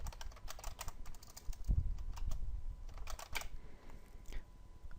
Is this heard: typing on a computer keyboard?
yes